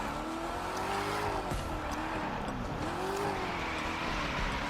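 Car drifting through a right turn in The Crew 2, with a continuous wavering tire squeal over a steady engine drone, loud and close, with no voices over it.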